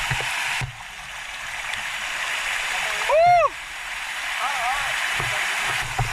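Rushing water from a waterfall in Dumanjug, Cebu hisses steadily in the background, with a brief whistling or squealing sound rising above it partway through.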